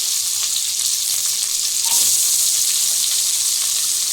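Chopped onion frying with whole spices sizzles loudly and continuously in a pan, a broad hiss close up with a brief swell of bubbling midway and no speech.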